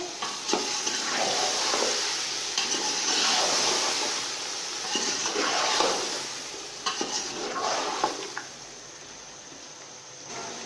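Potatoes being stirred with salt, spices and yogurt in a cooking pot, with steady scraping and sizzling throughout and a few sharper clinks of the spoon against the metal.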